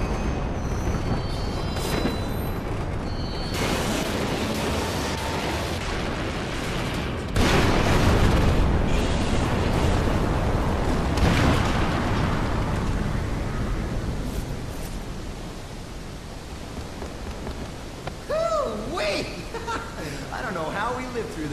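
An explosion in the action game The Bouncer, followed by a loud, broad rushing roar of seawater flooding in, with booming bursts and a voice heard over the noise.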